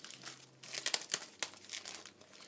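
A plastic parts pack for a laser cutter upgrade being cut open, close crinkling and tearing rustles in uneven bursts, with no one talking.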